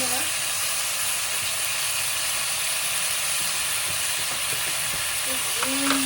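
Minced meat frying in a pan for fried bee hoon, a steady loud hissing sizzle throughout with occasional stirring; a voice speaks faintly in the background.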